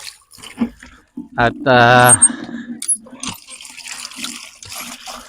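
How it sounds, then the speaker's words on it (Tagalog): Water fetched and poured into a container, a short splashing gush lasting about a second amid scattered clinks and handling noises, with brief bits of talk nearby. "magigib lang ho tayo ng tubig"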